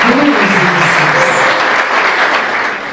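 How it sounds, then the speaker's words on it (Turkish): An audience claps loudly and steadily at an award ceremony marking a hospital's 20th anniversary, a dense, sustained applause that fades slightly toward the end. "Lütfen kendi kendinize alkışlar mısınız efendim?"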